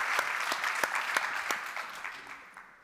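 Audience at an AI and sustainability startup pitch event applauds after a pitch: a burst of clapping with a few sharp individual claps standing out, fading steadily over a few seconds.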